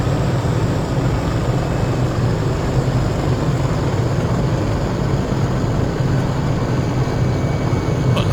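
Simulated aircraft engine noise from a Cowan Simulation 500E helicopter in Microsoft Flight Simulator, a steady low rumble and whine holding at a constant level throughout after shutdown, with no voices.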